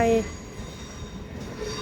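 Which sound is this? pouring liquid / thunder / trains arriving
trains arriving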